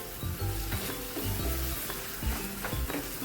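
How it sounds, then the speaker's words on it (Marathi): Sheera is stirred and sautéed in a pan with cardamom and saffron, a close, steady sizzle broken by regular scraping strokes of the spoon. "हे आपण सगळं व्यवस्थित परतून घ्यायचं"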